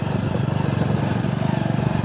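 A steady, rumbling engine drones throughout with a fast regular pulse, close and loud, like a motorcycle running under a rider, riding through Bardaha Ghati in Madhya Pradesh.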